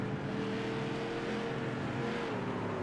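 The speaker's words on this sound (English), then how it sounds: "Just barely picks the throttle back up, and the car just spins it right around." A Kern County SK Modified race car engine droning steadily at a distance as the throttle is barely picked back up, a low continuous hum with a faint rising tone.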